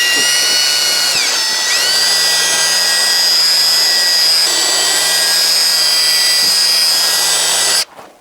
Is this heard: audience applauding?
no